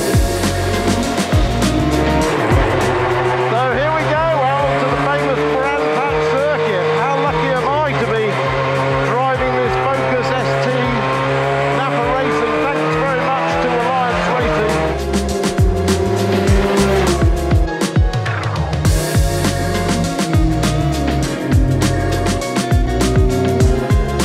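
NAPA hybrid touring race car at Brands Hatch Indy circuit during a BTCC 2024 weekend, its engine sweeping up and down through gears continuously at loud, close range, with tyre noise mixed in and voices talking beneath.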